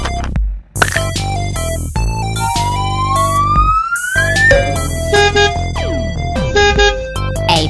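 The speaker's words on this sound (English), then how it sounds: "police car." An animated police car siren wails in a cartoon, with rising and falling tones, warbling sweeps, and bright synthetic effects layered over a musical backing.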